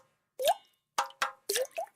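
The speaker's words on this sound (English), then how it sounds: "That's the sound of water coming from leaking pipes." Water drips from leaking pipes in five distinct plopping drops, close and clear against silence, spaced irregularly with a short pause after the first.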